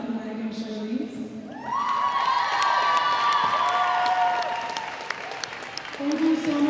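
A crowd at a girls' varsity volleyball senior night in a school gym breaks into sustained applause with cheers and whoops, swelling and then easing, with a voice speaking over a microphone before and after.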